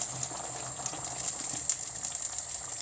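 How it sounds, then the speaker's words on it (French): Water at a rolling boil in a pot, heated for cooking pasta, with a steady close bubbling hiss and small irregular pops and gurgles throughout, no talking. "J'ai mis de l'eau à bouillir pour cuire mes pâtes. Voilà, l'eau bout."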